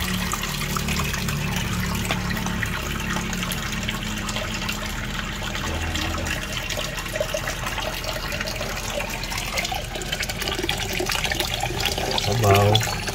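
Rice is washed under running tap water, which splashes and trickles steadily at close range, with faint sounds of handling mixed in.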